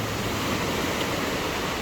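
Steady sea surf rolling against the shore of Corfu island, a continuous broad wash of waves heard up close with no talking.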